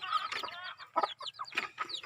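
A mother hen with six half-grown chicks on a rural farm gives a quick series of close, soft clucks and chattering calls in short bursts, with no people speaking.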